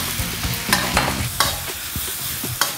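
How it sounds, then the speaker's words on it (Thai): Korat-style rice noodles are stir-fried in a wok with a steady sizzle, while a utensil scrapes and knocks against the metal in irregular strokes, close and fairly loud, with no voices. "ผัดให้เส้นคลายตัวถ้ารู้สึกว่าเส้นเรายังแข็งนิดนึงก็เติมน้ำได"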